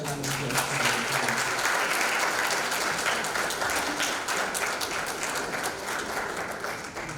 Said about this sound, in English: Amazing, another round of applause.